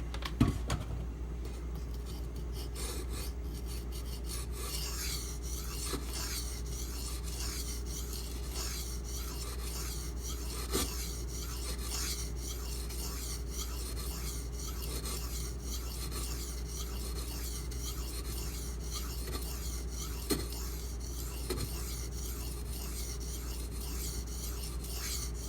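An M390 steel knife blade glides steadily across a sharpening stone in a quiet room, a soft, even rasping stroke repeated in regular rhythm for the whole stretch, close and faint.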